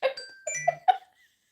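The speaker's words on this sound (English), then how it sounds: "the bell's going off" A doorbell-like chime rings in a short run of bright, sustained tones, a few strikes over about a second before fading to silence.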